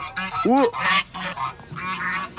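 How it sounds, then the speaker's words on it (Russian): Geese honk in a swamp, loud and close, with a burst of sharp calls and a brief exclamation from a person among them. "в болоте гуси, смотрите"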